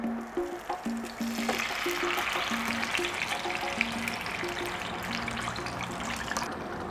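Tomatoes hit hot oil in a pan for a sugo sauce, giving a loud, steady sizzle and crackle that runs the whole time, with a few light taps and clinks near the start.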